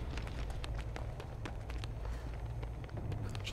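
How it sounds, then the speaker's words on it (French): Quick footsteps patter steadily in the online horror game Dead by Daylight, a run of soft rapid thuds over low rumbling ambience, faint and without talk. "J'entends des bruits de pas de partout"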